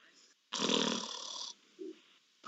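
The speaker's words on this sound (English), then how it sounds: "stop fucking snoring" A person snoring in one loud, rasping burst of about a second, with faint breathy sounds before and after and a soft snort near the end.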